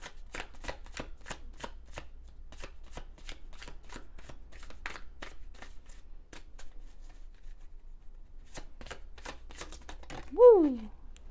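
Tarot cards shuffled in rapid riffling bursts, a steady run of crisp flicks that pauses briefly and starts again, with a short exclaimed voice near the end.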